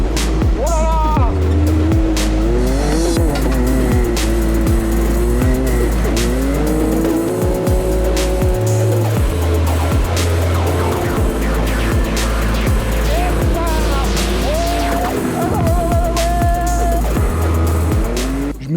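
A four-wheel-drive buggy roars close by for the whole stretch as its engine revs rise and fall, with repeated tire squeals and skids. A voice can occasionally be heard under the engine noise.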